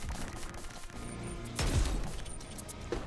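An incendiary shotgun fires in a video game: a single deep boom bursts out partway through over low, busy game ambience, with faint scattered effects around it.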